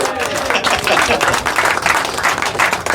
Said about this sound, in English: Round of applause for Louise Smiton, everybody.